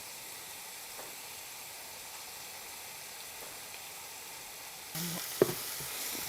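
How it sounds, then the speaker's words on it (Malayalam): Beef and shallots fry in a pan with a faint steady sizzle that swells louder near the end as more goes in, with a single sharp clatter, and no talk. "ഇനി നമുക്ക് ഇതും കൂടെ കിടന്നിട്ട് ഫ്രൈ ആകേണ്ടതാണല്ലോ, അതുകൊണ്ട് നമുക്ക് നമ്മുടെ ബീഫും കൂടെ അങ്ങോട്ട് ഇട്ട് കൊടുക്കാം"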